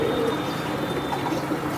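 Racer pigeons kept together coo softly and continuously nearby, a low burbling murmur layered under steady background noise, with no talking.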